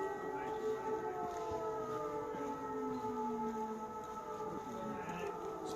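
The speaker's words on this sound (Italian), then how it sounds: "Non so se sentite il suono delle sirene. Un suono prolungato e cupo che anticipa l'arrivo di una incursione aerea nemica." Air raid sirens wailing in Ukraine during an aid delivery, a prolonged, deep, mournful tone with slowly rising and falling pitch, steady and continuous throughout, sounding from a distance over the surroundings.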